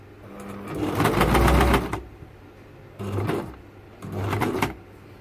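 A sewing machine stitches fabric during shirt-making, running in three bursts: a longer whirring run, a pause, then two shorter runs of steady needle chatter, close and moderately quiet.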